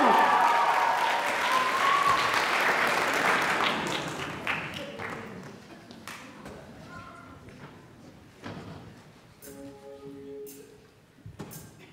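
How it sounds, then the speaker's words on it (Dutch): An audience at an end-of-year music school show applauds the first group of performers, starting loud and full, then thinning over several seconds into scattered claps, knocks and light stage noises. "Mag ik een heel groot applaus voor de eerste groep van deze show?"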